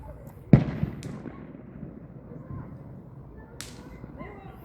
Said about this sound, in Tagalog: Sa mahal ng paputok, matipid ang nagpapaputok.